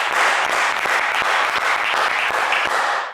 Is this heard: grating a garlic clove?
no